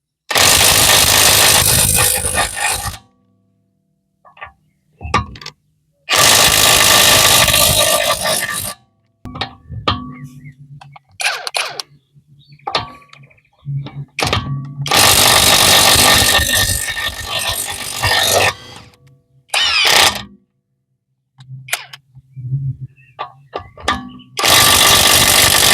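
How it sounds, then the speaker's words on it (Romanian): A Parkside Performance 600Nm impact wrench tightens in loud, long hammering bursts of several seconds, separated by silences and quieter clanks of handling. "acum am să strâng 5 secunde cu scula de la Parkside"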